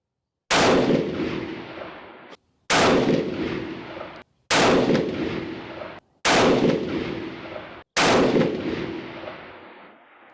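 Five loud 7mm PRC rifle shots firing handloaded ammunition at an outdoor range, evenly spaced about two seconds apart, each a sharp crack with a decaying echo and silence between.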